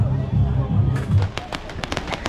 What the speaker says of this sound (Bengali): বা আমরা যেটাকে আতশবাজি বলি